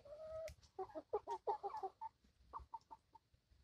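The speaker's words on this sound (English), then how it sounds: "All right, chickens. You girls need to lay some more eggs today." Backyard laying hens cluck close by, a long call followed by a rapid run of short clucks, then a few more scattered clucks, clear in quiet surroundings.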